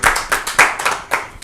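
A small audience at a Rajasthan Parishad interview event claps in uneven bursts, several loud sharp clusters of handclaps spaced irregularly, close and without talk.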